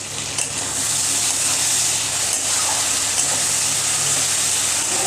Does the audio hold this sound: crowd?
no